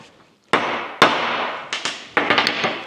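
A series of sharp metallic hammer taps on a Scout drive shaft, with two isolated strikes followed by a quicker cluster of lighter knocks, each ringing briefly, close up.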